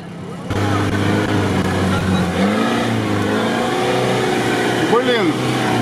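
Off-road vehicle engine revving hard while overtaking on a muddy trail during a UAZ and Land Rover swamp-buggy outing, a steady loud drone with a rising pitch sweep near the end, with someone talking over it.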